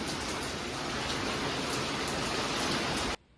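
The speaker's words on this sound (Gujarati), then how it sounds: "બહુ એટલે બહુ વરસાદ ચાલુ છે" Heavy, steady rain falls on an outdoor surface, a dense unbroken hiss that stays loud and even before cutting off abruptly near the end, with no voices.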